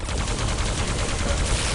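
Sustained plasma gun fire in a Quake team deathmatch, a dense unbroken rapid stream of shots that stays loud and steady throughout.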